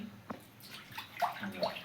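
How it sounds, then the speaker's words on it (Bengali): Water poured into a hot wok while making sona papdi syrup, a short splashing, sloshing gush close by with no voices. "অল্প পরিমাণে পানি দেবে আমাদের"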